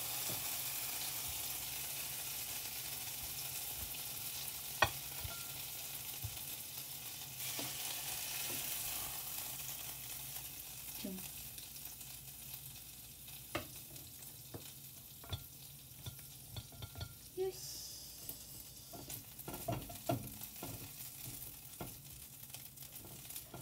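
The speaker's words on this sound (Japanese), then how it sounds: "ジュージュー言ってる。" Food fries in a pan and is starting to scorch a little, making a soft, steady sizzle for over twenty seconds. Scattered light clicks and scrapes from stirring break the sizzle at irregular moments.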